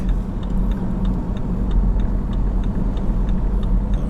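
A car's turn signal ticks in a steady, regular rhythm inside the cabin during city driving, sitting over a low engine and road rumble with no talking.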